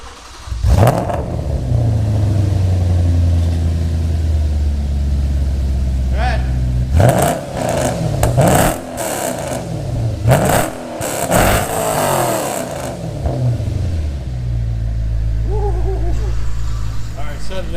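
An engine is fired up and revved hard while blowing black smoke, with loud roaring surges that rise and fall several times over a steady idle, and voices talk over it.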